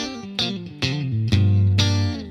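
An electric guitar through a Dream '65 Reverb amp-simulator pedal set completely clean plays four plucked notes one after another, bright and clean, each ringing out with a springy reverb tail.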